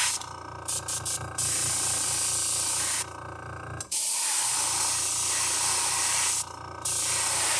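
Airbrush spraying paint onto a crankbait lure, a steady close hiss in several long bursts separated by short pauses and a quiet gap.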